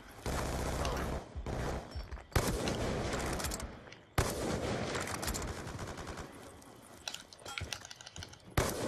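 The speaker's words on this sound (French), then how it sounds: "Je lance ma grenade au cas où" A thrown grenade in the Black Ops 2 video game, surrounded by dense, loud gunfire and sharp blasts. Bursts come in repeated rapid waves across a busy multiplayer firefight, with no talking over it.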